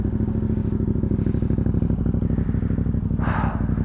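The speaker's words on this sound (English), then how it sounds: "we'll get a sound check on the FZ because it just sounds so delicious" A Yamaha FZ motorcycle idles in neutral close by, its engine thrumming in a loud, even, rapid pulse with a brief blip partway through.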